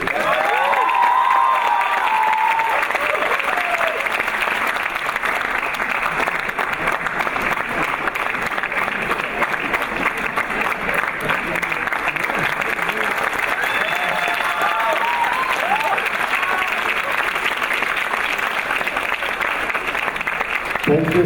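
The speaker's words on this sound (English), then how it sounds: "She deserves a round of applause." Loud, sustained applause from a large crowd fills the whole stretch, dense and continuous, with a few cheers rising from within it.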